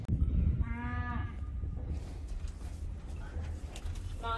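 Cattle in a herd moo loudly nearby, with one long, strong lowing call early on, then fainter calls and bird-like coos among background farm noise.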